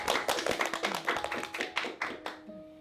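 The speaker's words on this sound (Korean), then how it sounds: "박수 한번 칩시다" A small group claps together in thanks to parents during an interview with graduates of a special-purpose high school, a brisk patter of hand claps that fades out at the end.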